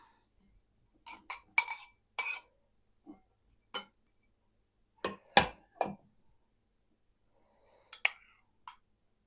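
Chopped salad ingredients tipped into a single bowl, producing a series of short clinks and knocks against the dish, sparse and close with quiet gaps between, no talk.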